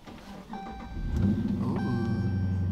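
A 2016 Dodge Charger RT with a mid-muffler delete idles and then revs, its deep engine rumble rising and holding at a loud, steady roar close by with no talking.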